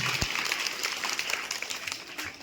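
An audience at a school's Independence Day drama performance applauds an actress, a steady wash of clapping at moderate distance that holds for a couple of seconds.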